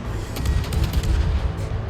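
Battleship Montana's naval guns fire in World of Warships, a quick volley of deep booming shots rolling together over about two seconds, loud and heavy with rumbling low end.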